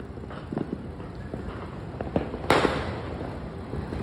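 Distant Christmas Eve fireworks pop and crackle in scattered bursts, one louder bang standing out over a steady outdoor rumble.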